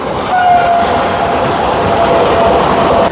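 Orange Vande Bharat Express train passing on the Naihati railway bridge curve, a loud, close, steady roar of rolling wheels on track with a short horn tone near the start.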